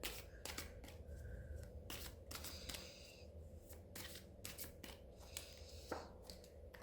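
Tarot cards being shuffled and pulled, quick rapid riffling and flicking bursts with crisp snaps of single cards, close and faint in a quiet room.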